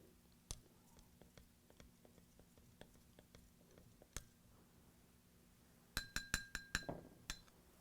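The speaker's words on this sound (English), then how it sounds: "Let's stir it a little bit." A spoon stirs bleach into Coke in a glass, giving a quick run of close, sharp glassy clinks near the end, after a few scattered taps over quiet room noise.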